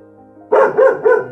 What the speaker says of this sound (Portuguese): tem um latidão forte